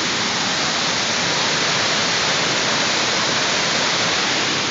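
Heavy floodwater rushes along a town street in Pelham after a massive rainstorm, a loud, steady, dense roar that continues unbroken throughout.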